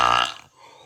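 A single short burp from a woman, loud and close for a fraction of a second, then fading to near quiet.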